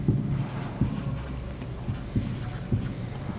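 Someone writes on a board during a mathematics lecture: quiet, close scratchy strokes come in short separate bursts, each a quick scrape followed by a pause.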